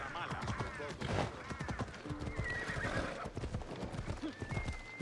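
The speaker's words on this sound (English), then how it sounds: "Leaving the horses." Horse hooves clip-clop steadily while a horse whinnies, with a synthetic game-like soundscape and faint talk in the background, in Assassin's Creed Odyssey.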